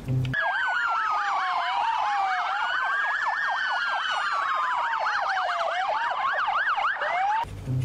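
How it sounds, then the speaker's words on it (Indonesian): A toy police car's wailing siren sweeps up and down steadily and loudly for several seconds, close and alone with no talk over it. "Di sini ada mobil polisi"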